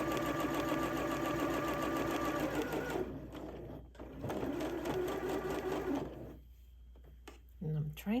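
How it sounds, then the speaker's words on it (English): A sewing machine stitches a Butterick B6872 pattern piece along its stitching line: a loud, steady, close mechanical whir in two long runs with a brief stop between them, then quieter handling sounds near the end. "I'm stitching pretty much on that stitching line"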